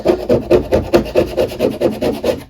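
A wallpaper tool with a scraper blade scrapes paint off a wooden door in a steady series of about a dozen rhythmic rasping strokes. The sound is loud and close, with no speech.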